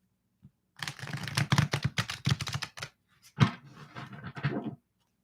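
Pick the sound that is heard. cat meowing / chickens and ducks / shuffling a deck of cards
shuffling a deck of cards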